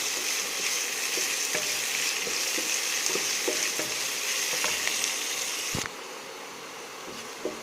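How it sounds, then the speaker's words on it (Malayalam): Onion, coconut pieces, ginger and garlic sauté in a hot pan with a steady, close sizzle and scattered stirring clicks, the frying noise dropping noticeably quieter near the end. "ഇതിൻ്റെ കൂടെ നമുക്ക് സവാളയും തേങ്ങാക്കൊത്തും കൂടെ ചേർത്ത് നന്നായിട്ട് വഴറ്റിയെടുക്കാം."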